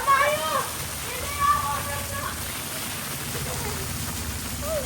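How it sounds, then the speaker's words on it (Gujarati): Heavy monsoon rain pours steadily in Bodeli as children play out in it, a dense, constant hiss of falling water with children's voices and shouts rising over it throughout. "આ જુઓ, આટલો બધો વરસાદ પડે છે."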